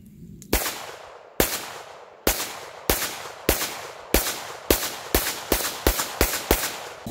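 A handgun emptied through a full magazine on an outdoor range in Rock Castle, Kentucky: about a dozen sharp, loud shots, spaced widely at first, then quickening into a faster cadence, each trailed by a short echo.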